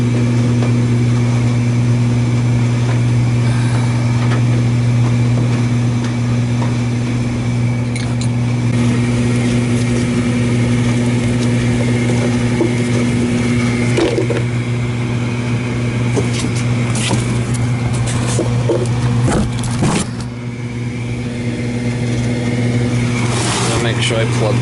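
A gas furnace fitted with a new inducer motor and new exhaust runs with a steady, loud mechanical hum and drone that holds throughout, with a few brief knocks near the end.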